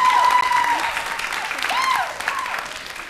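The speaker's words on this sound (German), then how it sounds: "Dann ein großer Applaus" A school-competition audience applauds steadily at moderate volume, with a continuous wash of clapping throughout.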